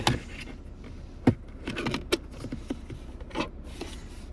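Keys clink and rattle as they are set down into a storage tray inside a car, a few soft jangles and rubbing knocks close by with no talk.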